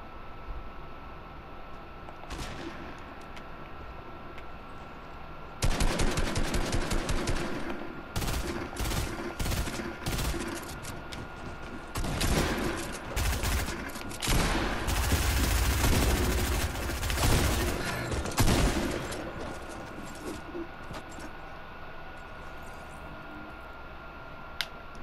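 Gunfire in the video game Fortnite: after a quieter stretch, sharp rapid volleys of shots erupt and repeat in clustered bursts for several seconds, then thin out to a few isolated cracks.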